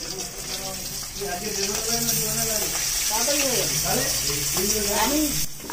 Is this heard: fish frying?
yes